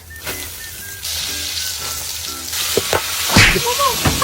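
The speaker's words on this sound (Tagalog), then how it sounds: "mabilisang prito lang ang mangyayari dito" Food sizzles and crackles steadily in hot oil close by, with occasional utensil scrapes and clanks as it is stirred.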